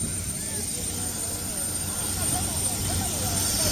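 A loud, continuous engine roar of an airplane at Bangalore airport during boarding fills the scene, with faint voices underneath.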